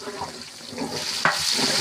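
Onions fry in oil for a large batch of chicken biryani made with 20 kg of broiler chicken, giving a brief, soft, close sizzle that grows slightly louder toward the end.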